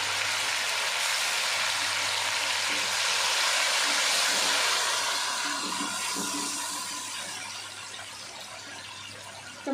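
Garlic sautéing in a pan for masala bhindi gives a steady, broad hissing sizzle that stays strong throughout and eases slightly toward the end, with no talking.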